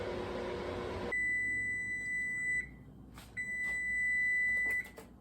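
Electronic kitchen timer in a home kitchen, emitting two long, clear, high-pitched beeps after a burst of background noise cuts out, fairly loud against near silence.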